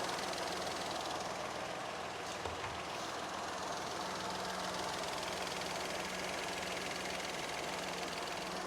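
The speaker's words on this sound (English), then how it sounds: "I can hear the cooling fan has cut in" A 2012 Peugeot 208 1.2 petrol idles with its radiator cooling fan running, a steady whooshing fan roar over a low engine hum, constant and close, with no talk.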